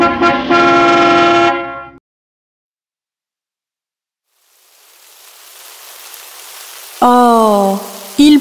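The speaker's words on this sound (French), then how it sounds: "Oh, il pleut!" Steady rain patters down, a soft hiss building gradually after a silence, between bursts of a sung melody.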